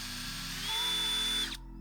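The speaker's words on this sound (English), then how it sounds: "So I've set my drill onto slow speed" A power drill set to slow speed whirs steadily, close and alone, its pitch rising briefly mid-run before it stops abruptly near the end.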